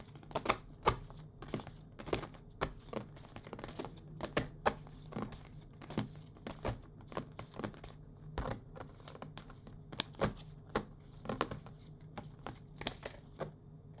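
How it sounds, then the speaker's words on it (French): Tarot cards are shuffled and drawn close by, making a steady run of soft riffles, flicks and sharp snaps spread across the whole stretch. No one speaks. "Je vais tirer d'autres cartes."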